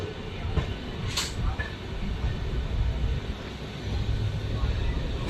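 A MEMU train runs along the Chennai–Bangalore line, heard from aboard as a steady, loud rumble and rattle of wheels on track with no break.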